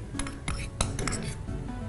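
A spoon mixes paneer bhurji seasoned with crushed kasuri methi and chopped coriander in a pan, giving a few close metallic scrapes and clinks against the pan over about two seconds.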